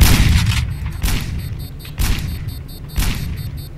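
Gunfire in the stealth video game Sneak Thief, four heavy booming shots spaced about a second apart, each loud and sharp with a short rumbling decay.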